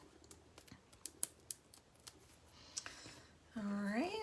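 Scissors snip extra paper off the legs of a cut-out on a Halloween candy bar wrapper craft, several quick close clicks, followed by a brief voice at the end.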